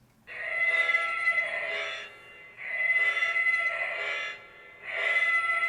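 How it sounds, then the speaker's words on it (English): A lightsaber's slowest ignition effect, styled after the Stargate, swells up as a breathy, whooshing hum, repeated three times with short quiet gaps, fairly loud and alone. "That sound is actually, for any of you Stargate fans out there, that's actually the Stargate."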